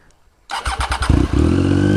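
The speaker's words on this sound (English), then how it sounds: "it's got this crazy exhaust fitted to it" A Triumph Street Triple motorcycle with a Racefit Growler straight pipe exhaust starts up with a few quick loud pops and catches into a harsh, booming idle, very close.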